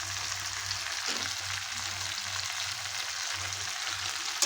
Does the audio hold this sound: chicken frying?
yes